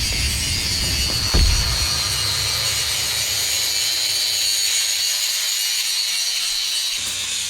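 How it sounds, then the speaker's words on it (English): Steady, loud shop noise from grinding and welding while trimming Jeep XJ front fenders to fit 42-inch tires, a continuous broadband hiss with one brief knock, close and without talk. "it's really loud in here. We have welding, we have grinding, we have a lot going on to make this thing happen."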